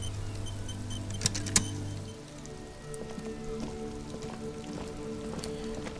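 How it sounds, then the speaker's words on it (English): Steady rain falling in the video game Disco Elysium, a constant soft hiss of drops over low background tones, with a brief low hum at the start and a couple of faint clicks. "This rain will not let up anytime soon."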